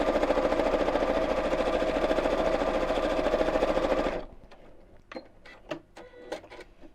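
A sewing machine stitches appliqué on a Christmas tree cushion cover, a loud steady rapid chatter for about four seconds that stops, followed by quieter scattered clicks and handling sounds.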